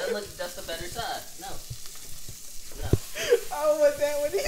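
A pancake fries in a pan with a steady sizzle, while people talk loudly over it throughout.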